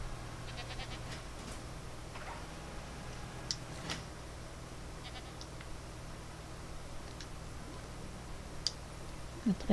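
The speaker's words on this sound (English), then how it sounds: "Because the goats are back here?" Goats bleat faintly and at a distance in the video game Jurassic World Evolution 2, short cries scattered over a steady low ambient hum with occasional soft ticks.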